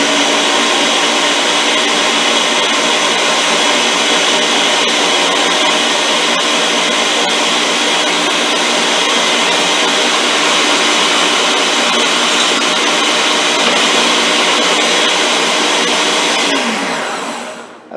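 A Ninja blender runs on boost, churning strawberry banana ice cream with a loud, steady high-pitched motor whine that holds for many seconds, then cuts off and spins down at the end.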